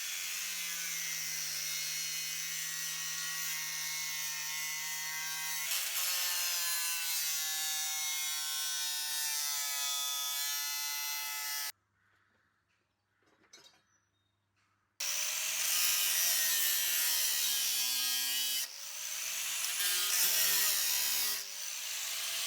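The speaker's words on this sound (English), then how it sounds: "Okay, that's all the grinding done." An angle grinder cuts through metal stove pipes for an upcycled wood-burning stove, a loud sustained whine that sags in pitch as it bites, with a short quiet gap before cutting resumes.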